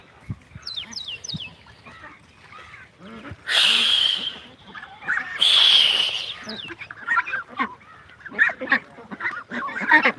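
Farm ducks honk and quack in loud bursts close by, mixed with sharp chirps from other birds in the farmyard.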